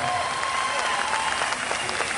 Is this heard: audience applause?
yes